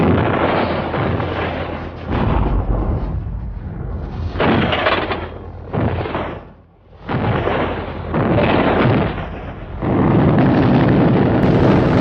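Heavy radar-guided artillery guns fire from the Channel coast in a series of loud, booming blasts and rumbling bursts, one after another, with a short quiet gap between volleys.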